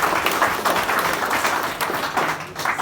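Audience applause at a Holi get-together show for Bank of Baroda, a dense, steady wash of many hands clapping throughout, fairly loud and close, with no clear speech over it.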